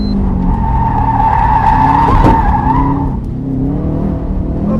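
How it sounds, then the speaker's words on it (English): A 2006 Subaru STI engine pulls loudly through a tight cone turn, with a sustained tire squeal from trail braking and a brief sharp transient mid-turn before the engine note drops as the throttle eases. "trail brake in, try to hit that cone and roll on the throttle"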